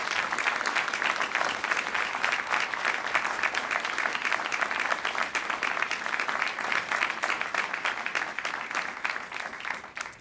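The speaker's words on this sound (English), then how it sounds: "give all of our distinguished honorees another round of applause" Sustained applause from an audience at a NASA agency award ceremony honoring employees, dense even clapping that fills the room for about ten seconds before tapering at the end.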